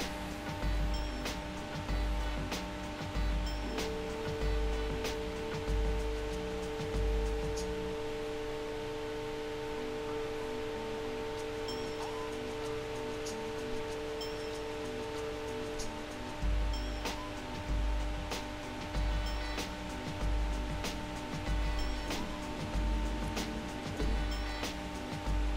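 A GRBL-controlled CNC machine homing its axes: a steady motor whine holds for several seconds over a low, pulsing mechanical hum, with scattered small clicks at moderate distance.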